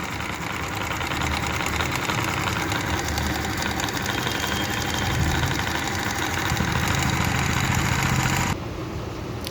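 Coil winding machine spinning copper wire onto a table fan coil, a steady, dense mechanical whir with a light rattle that runs loud and continuous, then drops off sharply near the end.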